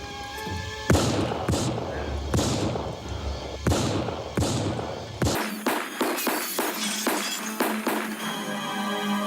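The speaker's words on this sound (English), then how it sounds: "This then allows Lucas to repeatedly shoot Jinky" Gunshots fired repeatedly in the horror film House 3: a run of loud, sharp bangs, dense and muffled at first, then crisper, evenly spaced cracks over a low rumble.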